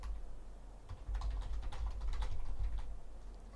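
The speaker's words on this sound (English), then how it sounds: "You can hear me typing." Quick, light clicks of typing on a computer keyboard, a brisk irregular run of keystrokes close by against a low hum, with no talking.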